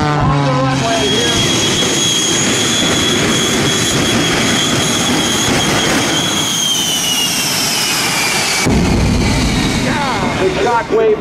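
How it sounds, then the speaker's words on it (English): Shockwave jet truck racing down an air show runway, a loud continuous jet roar that sweeps and shifts in pitch, with a commentator's voice running over it. "The Shockwave jet truck at"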